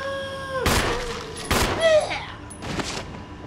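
Gunshots against zombies in the video game Resident Evil Remastered HD, with three or four loud, booming shots a second or so apart, each echoing and ringing out, mixed with creature groans.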